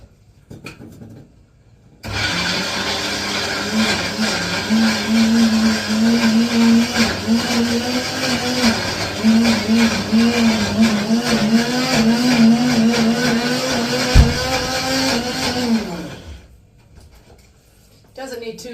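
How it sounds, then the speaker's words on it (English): Kitchen blender running on high, blending soft ingredients into creamy hummus in a kitchen in Rajasthan; a loud steady whirring motor drone with a shifting pitch lasts about thirteen seconds, then cuts off, with faint talk before and after. "So then you just stick the lid of the blender on,"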